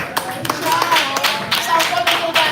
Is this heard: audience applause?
yes